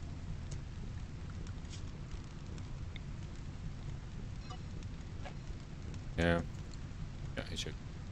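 Steady, faint rain hiss from the RimWorld video game, soft misty rainfall running as a constant wash with scattered clicks and a brief louder blip.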